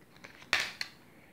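An oracle card drawn from a deck makes one quick, close papery slide and snap, followed by a softer flick, in a quiet room.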